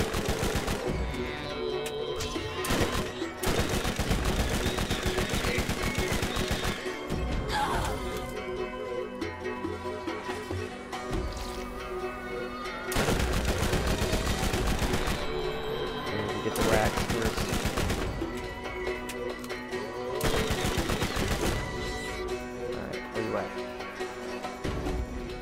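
Gunfire in the video game Borderlands: rapid, loud bursts of automatic shots in repeated volleys, with brief pauses between them, dense and close throughout.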